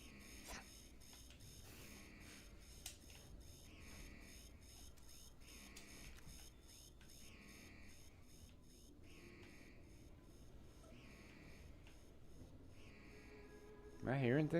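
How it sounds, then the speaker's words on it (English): An alarm blares in the Starfield video game as a steady, repeating electronic beep pattern that pulses at regular intervals throughout, with a louder burst of sound near the very end. "There's got to be a shut the alarm off button here on all these computers, right?"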